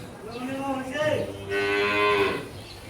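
Dairy cattle in a milk hub shed in Rangpur moo loudly and close by, one drawn-out low call followed by a second, longer and stronger moo, with no talking.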